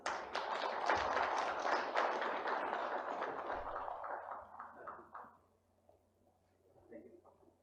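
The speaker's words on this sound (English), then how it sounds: "A big round of applause, please." Summit attendees at the GRIHA Summit give a sustained round of clapping that stays steady for several seconds, then tapers off and dies out, followed by a little quiet talk.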